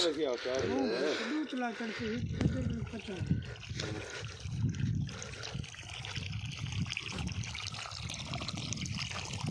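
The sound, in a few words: water gushing from submersible motor pump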